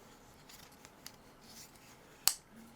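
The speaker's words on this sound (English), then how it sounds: "The only way you can fold the knife back in is" The blade of a CRKT M16-04Z folding knife snaps shut with a single sharp, close click near the end, after a quiet stretch of faint handling rustle.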